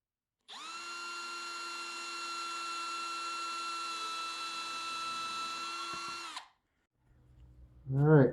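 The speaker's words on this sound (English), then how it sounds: "Simple drill bit with a countersink, and I usually countersink both sides" A power drill fitted with a countersink bit bores into pickguard material for a bass guitar, giving one steady high whine of about six seconds that stops abruptly, followed by a brief clunk of handling.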